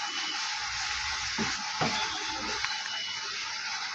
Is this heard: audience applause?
no